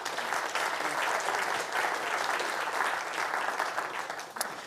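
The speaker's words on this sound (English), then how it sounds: "Maybe you could give them a round of applause." An audience at a constitutional panel event claps in steady, dense applause that stays loud throughout and tapers slightly at the end.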